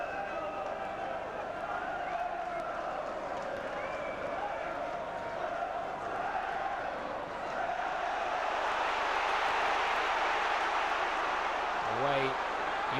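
Crowd of York City football fans in a stadium at a match against Manchester United, cheering in a steady broad roar that swells louder in the second half.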